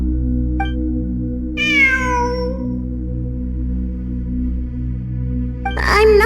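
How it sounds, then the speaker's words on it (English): A cat meows in the game Genshin Impact: one long, clear, falling meow followed by a shorter call at the end, close and loud over a steady low humming game drone. "It really is a cat."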